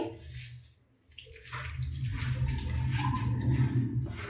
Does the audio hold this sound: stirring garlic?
no